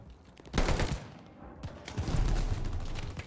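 A sniper rifle fires in Call of Duty Vanguard, giving sharp cracking reports with a firecracker-like pop, two loud bursts followed by a rumbling tail amid other game noise, with no talking.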